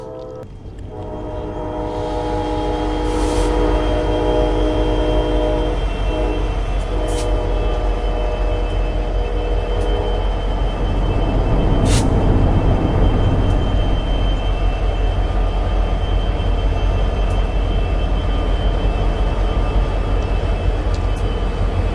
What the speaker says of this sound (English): Out on the line, a modern echo glides across the old rails, the Q train.